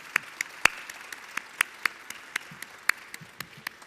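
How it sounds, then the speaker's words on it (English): Sparse applause at a press briefing in a new airport terminal, with a few separate hand claps ringing out irregularly over a quiet room. "Let's give him a round of applause,"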